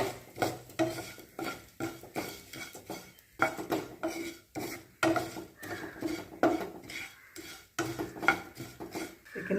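Flattened rice (aval) roasts in ghee in a pan, heard as repeated close scraping and clinking strokes of a spoon against the metal in an uneven rhythm, with only a faint sizzle underneath.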